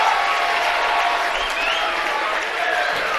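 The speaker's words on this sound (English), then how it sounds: "Oh, listen to this crowd." A packed gym crowd at a high school wrestling meet between Cathedral and Roncalli roars and applauds after a pin, a loud, continuous wall of cheering and clapping.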